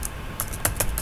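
Typing on a computer keyboard while writing code, a few quick close key taps over a soft background hum.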